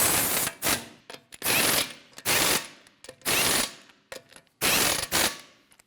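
A ratchet wrench snugs the lug nuts on a Honda CR-V wheel: five or six quick, loud bursts of clicking, each about half a second long, separated by short pauses, heard close up with no talking.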